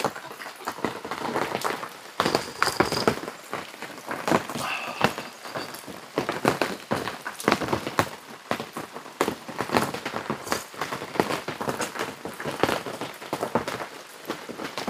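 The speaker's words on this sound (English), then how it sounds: "Cheers to this wonderful rain." Rain falls at a campsite during a solo camping trip, a steady patter of drops striking surfaces nearby with irregular louder taps and splats throughout.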